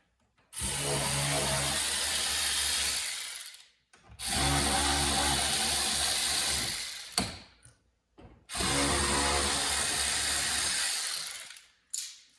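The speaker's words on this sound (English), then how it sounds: "next we're going to remove these 3 15 Torx screws" A cordless power driver backs out three T15 Torx screws while an exterior LED kit is installed on a Corvette E-Ray or Z06. It runs in three long, loud, steady whirring bursts separated by short pauses, with faint clicks between them.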